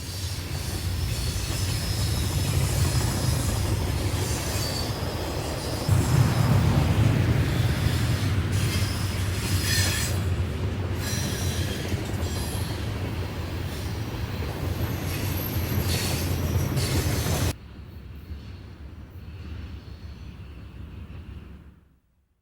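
A CSX eastbound freight train rolls past the east portal of Carruthers Tunnel in 1992, a loud steady roar of wheels and cars with squeals and clicking, then a sudden drop to a quieter fading rumble.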